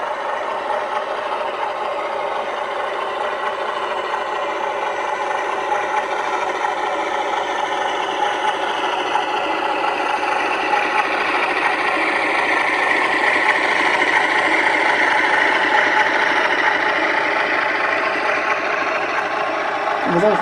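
A model DCC locomotive with nickel silver wheels runs steadily on track, giving a continuous whirring motor hum with a light rattle that swells slightly partway through and stays even throughout.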